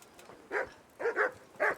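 Dogs in a village backyard in Kingdom Come: Deliverance bark in a quick burst of four sharp, mid-distance yaps, spaced unevenly over a quiet background.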